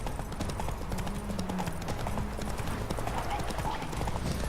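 Horse hooves clip-clop steadily in The Witcher 3 game, a continuous rhythmic trot over ambient game sound with faint background voices.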